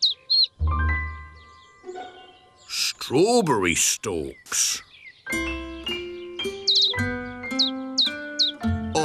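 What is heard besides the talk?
birds chirping in a cartoon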